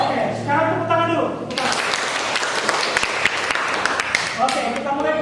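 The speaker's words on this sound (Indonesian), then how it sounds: "sekarang tepuk tangan dulu" A classroom of students breaks into loud, sustained applause during a physics lesson, a dense burst of clapping that follows a short stretch of voices.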